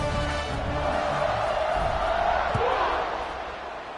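Stadium crowd noise in an American football video game, Arkansas at Florida: a steady roar of cheering fills the whole clip, swelling slightly before easing off toward the end, with a commentator's voice running over it.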